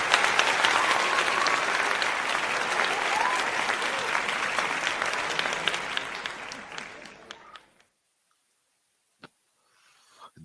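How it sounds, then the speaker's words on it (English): Applause for Donnie Williams, a steady burst of clapping that holds for about seven seconds and then cuts off, leaving near silence with a couple of brief clicks. "Let me give him some applause."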